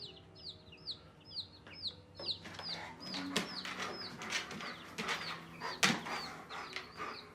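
Chickens clucking repeatedly nearby, a flurry of short, rhythmic clucks and squawks from several birds, with light rustling underneath.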